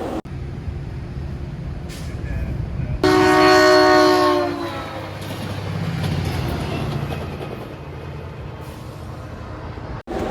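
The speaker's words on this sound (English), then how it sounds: "the Sunrail would be going cab car first, straight past Taft Yard" A SunRail commuter train in Orlando, Florida runs cab car first past Taft Yard, sounding a loud, sustained horn blast before a steady rumbling passage that slowly fades.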